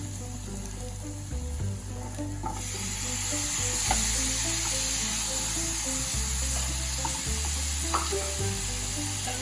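Chopped tomatoes sizzle and crackle steadily in hot oil with ginger-garlic paste during egg curry preparation, a loud continuous frying hiss with occasional stirring clinks, no voices.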